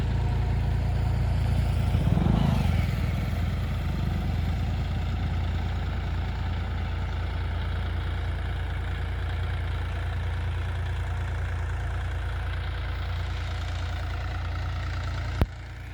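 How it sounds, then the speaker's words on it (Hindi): A John Deere 5305 tractor engine running in a sugarcane field, a steady low diesel drone with a brief surge near the start, then a constant rumbling hum until it cuts off at the end. "देखिए ट्रैक्टर स्लिप मार रहा है, चक्कर नहीं तोड़े।"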